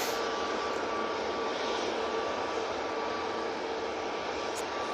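A TUI airliner's jet engines roar steadily on a full-length takeoff roll at Manchester Airport, a loud, continuous broadband rumble that holds without a break.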